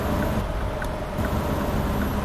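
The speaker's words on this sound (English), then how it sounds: "You can hear me hitting that engine brake." A truck engine brake in American Truck Simulator growls and rattles in a steady low drone, loud and close, with faint mechanical clicks.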